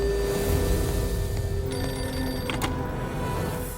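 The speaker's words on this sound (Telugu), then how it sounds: "ప్లాట్ఫామ్ నెంబర్ 1 మీద ఉన్న పబ్లిక్ టెలిఫోన్ రింగ్" A public telephone on platform one of a railway station rings in short electronic trills, fairly faint against a steady, humming station background.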